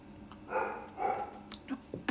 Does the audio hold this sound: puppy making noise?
yes